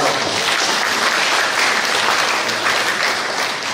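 Dense, steady applause fills a formal regional council plenary ceremony marking the 27th anniversary of Tanggamus Regency in Lampung, a sustained roomful of clapping at even loudness throughout.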